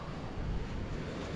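Steady wash of sea waves at a grassy beach campsite, a continuous low rumbling surf with wind noise on the microphone, no talking.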